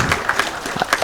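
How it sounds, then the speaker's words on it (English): Audience applause at a university nursing alumni chapter launch held at the Nairobi Safari Club, heard as a short, steady spell of many hands clapping in a hall with no voices over it. "I think they deserve a clap."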